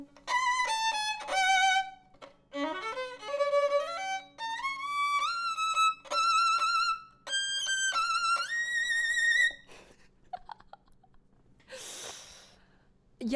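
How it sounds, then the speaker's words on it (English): A cheap $20 violin from Amazon is bowed in several short phrases of thin, scratchy notes with sliding, wavering pitch, followed by a brief breathy noise near the end. "I played a violin that sound like this."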